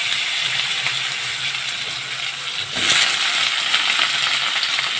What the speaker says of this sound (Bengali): আর এখানে আমি আলু কেটে নিয়েছি, পাতলা পাতলা লম্বা লম্বা করে আলুগুলো দিয়ে দিলাম।